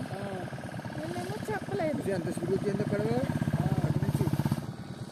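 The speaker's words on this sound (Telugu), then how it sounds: "చూడండి అది పడవ అయితే ఈ బ్రిడ్జ్ కింద నుంచి ఆ పక్కకి వెళ్తుంది." A motor boat chugs beneath a bridge on the Godavari river at Lanka, its engine giving a rhythmic, throbbing putter that grows more pronounced toward the end, heard under people talking nearby.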